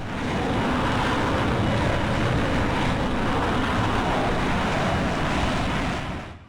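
Dassault Mirage F1 jet engine at full throttle in Microsoft Flight Simulator, a loud, steady broadband roar of rushing air and thrust that holds for several seconds before cutting off, with no talk.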